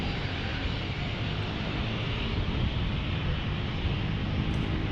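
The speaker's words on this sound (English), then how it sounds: "I hear another Cessna 208 Caravan getting ready to depart" Cessna 208 Caravan turboprop preparing to depart, a steady, broad engine roar holding at constant level, heard from a distance without speech.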